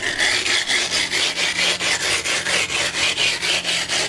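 Glass being rubbed by hand with abrasive grit to give it a matte surface, a loud, close, rhythmic rasping scrub repeating about four times a second, with no voices.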